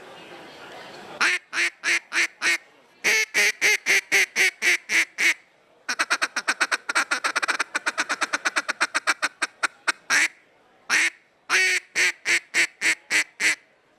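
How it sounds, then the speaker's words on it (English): A handheld mallard duck call blown in series of sharp, evenly spaced quacks, some runs slow and measured, one a rapid fast chatter, close and loud with brief pauses between sequences. "we make duck calls primarily for mallards"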